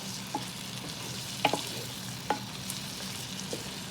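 Snow peas sautéing in a Power XL cooker, a soft steady sizzle with a few sharp scrapes and taps of a utensil stirring them, fairly quiet and close.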